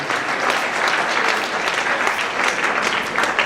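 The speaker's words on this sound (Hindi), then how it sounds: "जोरदार तालियां एक बार फिर से क्लास 9 के तीनों बच्चों के लिए।" Sustained applause from a school seminar audience honoring three class 9 prize winners, a dense, steady wash of many hands clapping at even loudness throughout with no talking over it.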